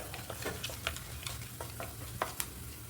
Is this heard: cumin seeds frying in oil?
yes